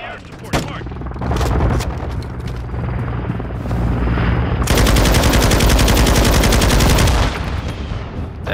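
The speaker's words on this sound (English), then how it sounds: "Hostile Overwatch helo in the area. We're taking enemy air support." An enemy attack helicopter in Call of Duty: Modern Warfare II thunders overhead amid heavy machine-gun fire and explosions, its dense rotor roar building and holding loud for several seconds.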